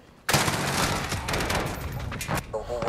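Rapid automatic fire from an MCX Rattler in Call of Duty Modern Warfare, a loud continuous burst starting abruptly and running nearly the whole time, with brief talk faintly underneath.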